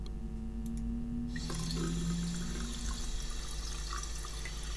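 After a few seconds of low ambient hum in the bathroom of the adventure game Der Fall John Yesterday, a hot water tap turns on and runs as a steady, close, rushing flow into a sink.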